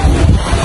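Strong typhoon wind buffets the microphone with a loud, rough roar, gusting unevenly throughout the short moment.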